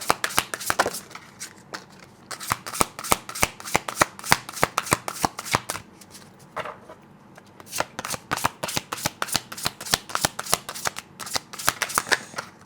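Tarot cards being shuffled and drawn by hand, a long run of quick crisp riffling snaps and flutters in close bursts, with short pauses between shuffles.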